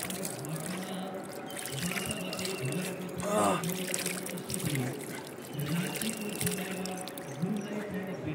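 Cold river water splashes and trickles as someone scoops it up and washes their face at a riverside, with gentle pouring and dribbling against the steady flow of the river nearby.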